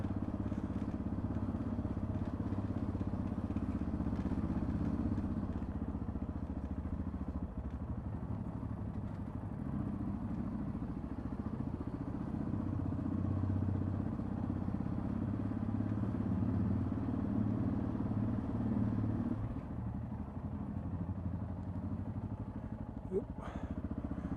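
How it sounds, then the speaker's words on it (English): A motorcycle chain rattles steadily while the bike rides past an old village, a continuous dense clatter layered over the mid-range engine hum, fairly even throughout with a slight dip partway through. "Chain rattling away."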